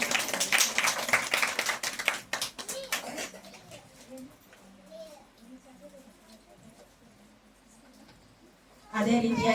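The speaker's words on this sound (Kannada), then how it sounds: "ಜೋರಾದ ಚಪ್ಪಾಳೆ." Loud clapping from a crowd at a community honouring ceremony, dense and energetic at first, fading into scattered voices and murmuring, then bursting back strongly at the end.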